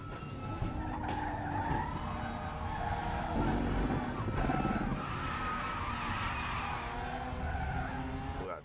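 Sustained tire squeal from a race car in the RaceRoom racing game, loud wavering squeals rising and falling over a droning engine across the whole stretch, alone without talk.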